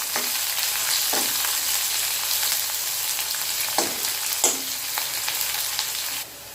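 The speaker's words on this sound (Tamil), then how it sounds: "அது கூடவே சின்ன வெங்காயம் சேர்த்துக்கலாம். இப்போ இதை நல்லா வதக்கிக்கலாம்." Curry leaves and small shallots sauté in a pan with a loud, steady sizzle and several crisp spatula scrapes, before the frying sound drops off abruptly at the end.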